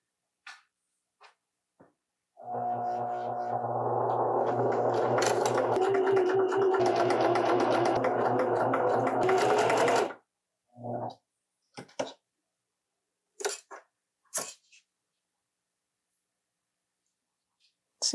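Sewing machine zigzag stitching stretchy fabric at the shoulders of a turtleneck, a steady close whir running for about eight seconds, followed by a few scattered clicks and light handling sounds.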